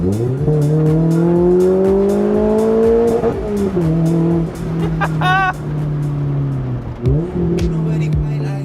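A 2017 Lotus Elise S engine revs hard and climbs in pitch through several gear changes of its 6-speed manual gearbox, loud and close, with brief drops between shifts.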